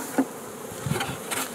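Honeybees buzz close by at an open beehive during a spring inspection, a few brief droning passes of individual bees rising and fading over quiet background.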